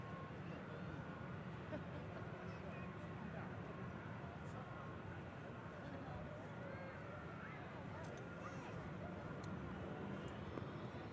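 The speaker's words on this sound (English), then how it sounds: "Brussels Airlines heading back home to Belgium on the taxi out." A Brussels Airlines airliner taxiing out at Manchester Airport, its engines a steady, distant broadband roar and whine that persists the whole time, with faint background voices.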